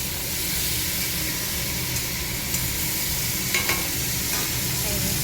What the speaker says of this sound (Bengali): এবার একটু নাড়াচাড়া দিয়ে ঢেকে দেবো